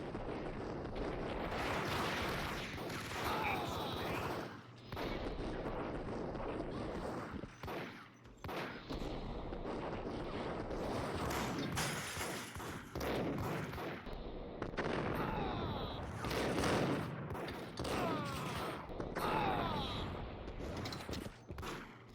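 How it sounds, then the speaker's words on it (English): Shotgun blasts and other gunfire fill a firefight in the Max Payne video game, coming as repeated loud booming bursts with short gaps between them. "That's a lot of shotgun blasts."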